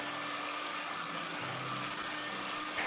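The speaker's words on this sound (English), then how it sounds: "start to whisk the double cream until you get that lovely air into it, so it's a nice thick creamy consistency" An electric hand whisk beating double cream gives a close, steady motor whirr with a constant drone and no breaks or talk.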